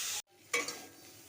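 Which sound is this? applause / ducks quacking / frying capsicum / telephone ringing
frying capsicum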